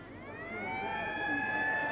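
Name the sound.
half-time siren at a rugby league match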